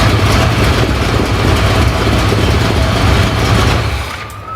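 A Yamaha DT200 motorbike with a YZ250 four-stroke engine swap runs steadily and loudly up close, a continuous low throb that fades slightly at the end, no talk.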